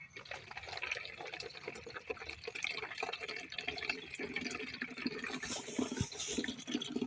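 Water gushes steadily from the pipe of a running motor pump at an outdoor tank, a constant, fairly loud rushing stream that lasts throughout, with faint voices now and then.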